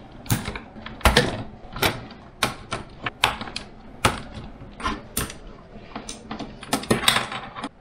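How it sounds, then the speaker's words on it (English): Melted plastic rivets being cut off a Logitech G710+ keyboard piece, giving a string of sharp, irregular clicks and snaps up close, each followed by brief plastic creaking, with no voice. "So I'm actually gonna have to cut all of these off just to get this stupid piece off."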